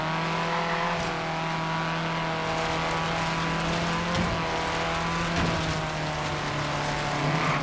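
Racing car engine in Forza Horizon 3, an Evo or Impreza, droning steadily and loud throughout with a constant hum and occasional surges, no talking.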